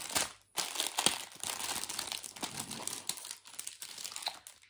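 Close, crisp crinkling and tearing of plastic packaging around small shelf accessories, in irregular bursts of rustling handled with one hand, with no speech.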